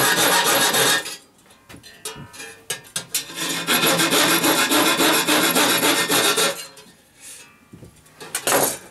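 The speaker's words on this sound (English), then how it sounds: "taking a hacksaw to it, it's not for the nervous." A hacksaw cuts through part of a full-size R2-D2 droid build. It makes loud rasping strokes in uneven bursts, and a quieter stretch in the middle is broken by a few clinks before the sawing picks up again.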